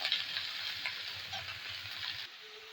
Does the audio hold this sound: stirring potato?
yes